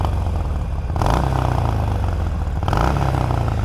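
A Harley-Davidson Sportster 1200 with an old-school Evo engine revs twice, each burst of throttle rising over a rough, loping idle, close and loud, with no talking.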